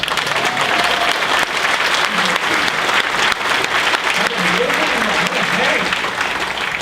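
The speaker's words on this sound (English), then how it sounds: "But he doesn't want you to clap yet." Loud, sustained audience applause and cheering from a convention crowd at a fan event interview, a steady dense wash of clapping throughout with some voices mixed in.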